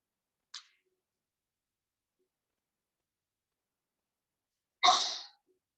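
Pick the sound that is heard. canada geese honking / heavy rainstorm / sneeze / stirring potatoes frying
sneeze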